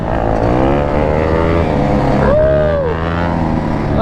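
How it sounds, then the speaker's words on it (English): A two-stroke engine revs in a busy parking lot. It has a loud, close, buzzy drone with one rev that sweeps up and then falls back, and no talking over it. "Homie out here with the 2-stroke. Let's go. That clean 2-stroke."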